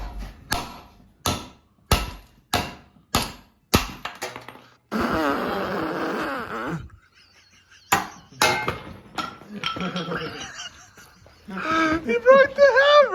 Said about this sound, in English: You weren't hammering with the head, you were hammering with the wood.